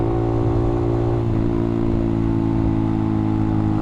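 A CFMOTO Papio SS motorcycle with a slip-on exhaust drones loudly and steadily at close range, holding a constant rumbling hum with little change in revs.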